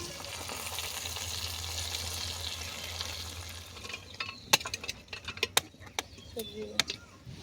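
Capsicum frying in a pan for a navaratna dal: a steady sizzle for several seconds, then clicks and scrapes of stirring break in over a fainter hiss.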